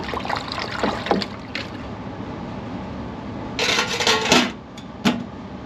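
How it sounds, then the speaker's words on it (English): Parts are rinsed by hand in water after ultrasonic cleaning, giving soft sloshing and trickling with bursts of splashing and clinking around the middle and a brief splash near the end, with no voices. "I've got some water here. I'm going to rinse these in."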